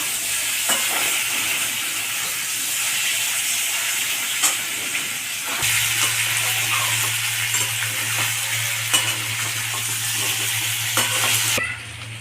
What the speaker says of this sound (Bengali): ওল আর আলু এটা আমি একটু ভেজে নেব।